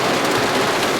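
Heavy rain pouring during a rainstorm near a tor on Dartmoor, a dense, loud, steady hiss of drops with no talk.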